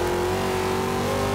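A car engine in Forza Horizon 2 holding a long, steady rev in second gear, a continuous loud droning note that climbs slightly in pitch with no talking.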